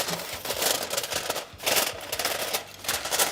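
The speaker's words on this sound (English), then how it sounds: "we're gonna cover it with foil nice and tight" Aluminum foil pressed and crimped tightly over a brownie pan: close, crisp crinkling and rustling in several quick bursts, with brief pauses between them.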